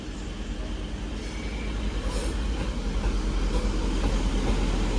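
A Class 197 train rumbles into Manchester Piccadilly station, a steady low mechanical drone that slowly grows louder, with faint station ambience.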